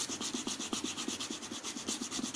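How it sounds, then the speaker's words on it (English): A fingernail rubs rapidly back and forth over a folded paper sheet to transfer a drawn pattern, giving a quiet, even scratchy swishing rhythm with no voices. "after that we have to rub with the nail"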